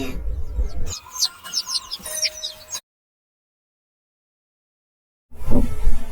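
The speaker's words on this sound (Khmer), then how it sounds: "8កំពុងតែប្រឡែងគ្នា" Chicks chirp in quick, high-pitched peeps for a couple of seconds before the sound abruptly stops.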